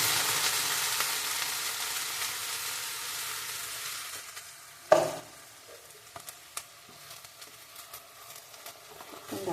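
Sauce is poured into a hot pan of cashews and stirred. A soft sizzle and scraping build up, then a sharp splashing burst hits midway, followed by quieter, crackling sizzle with scattered spoon taps.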